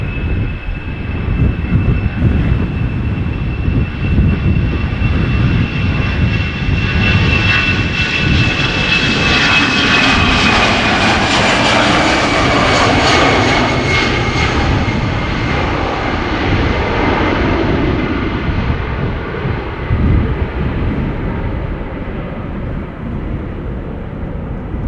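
An EasyJet airliner bound for Naples climbs past with a powerful jet roar and a whining engine tone, swelling to a peak midway and then fading gradually.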